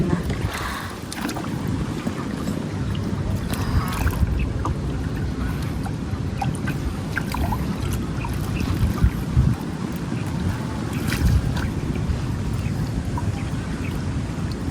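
A small boat being paddled in strong wind on a fishing trip with a bubo trap, with steady, close wind roar and rushing water noise throughout and no clear voices.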